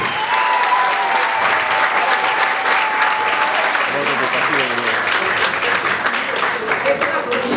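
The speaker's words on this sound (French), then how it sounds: "Applaudissons très fort" Crowd applause fills a Gabonese tribal celebration of a government appointment, a loud, dense, sustained roar of clapping hands throughout, with a voice speaking faintly over it.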